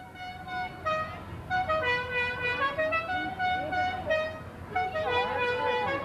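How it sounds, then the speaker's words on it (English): A classic car's musical horn sounds several times along a Christmas parade route, with melodic toots of moderate loudness over crowd and street noise. "Let's hear that horn one more time."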